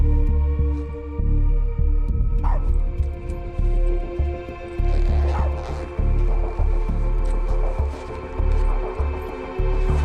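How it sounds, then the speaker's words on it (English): A dog barks repeatedly in a park under a steady low hum and rumble, the barks coming in short bursts with gaps between them, mixed with distant background noise. "Her dog wouldn't stop barking"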